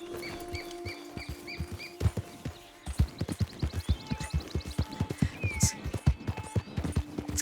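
Horse hooves clip-clopping at a steady pace in Red Dead Redemption 2, a rhythmic, close series of hoofbeats with faint birds chirping in the background.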